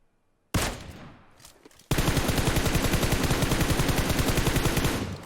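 Loud close rapid automatic fire in the mobile battle royale game PUBG Mobile, with one brief burst followed by a long unbroken rattling stream of shots.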